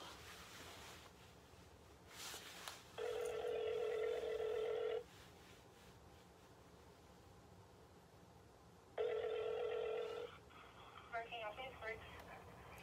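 A phone call to Burger King rings out twice, each a loud steady electronic ring tone lasting about two seconds with several seconds of quiet between, sounding near and clear over faint background noise.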